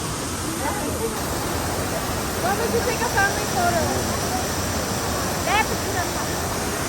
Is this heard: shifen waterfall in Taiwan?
yes